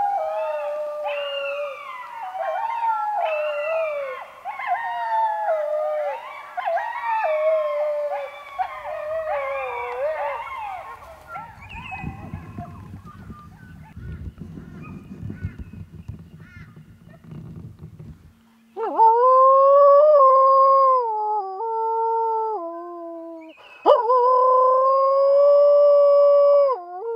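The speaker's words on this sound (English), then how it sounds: "dogs." Several dogs howl together in long, wavering, overlapping cries for about twelve seconds, followed by a low rumbling stretch and then further loud, sustained tonal wails.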